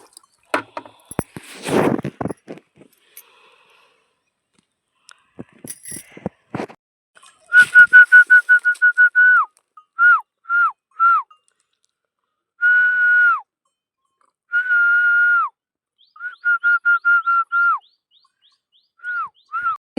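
Short bursts of human whistling, steady pitched notes repeated in a broken rhythm, aimed at a cow as it drinks water; an earlier stretch of wet, splashy noise comes before the whistles, with no talk.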